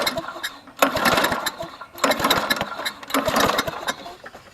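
Engine of a secondhand Toro GTS walk-behind lawn mower, fuelled and fitted with a new spark plug, turning over on repeated pull-starts: three loud surging bursts with brief dips between, each sputtering without settling into a steady idle.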